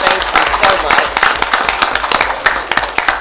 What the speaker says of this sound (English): let's give these girls a big round of applause